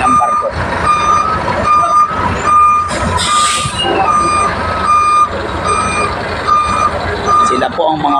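Reversing beeps pulse steadily and loudly from a truck backing onto a ship at Dumangas port in Iloilo, with engine rumble, a hiss of air brakes and a voice talking over the busy loading scene.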